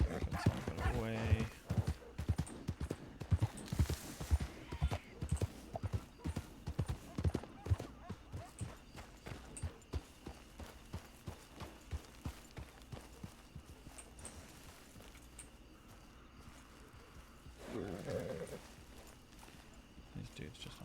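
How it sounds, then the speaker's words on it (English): Horses clip-clop along in a Red Dead roleplay video game, a steady run of hoof beats at moderate distance, with bursts of other noise around them. "These dudes just on their horses."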